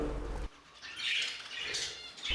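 Budgerigar wings flapping in a quick, close flurry as one budgie chases another, with brief soft chirps mixed in between bursts of fluttering.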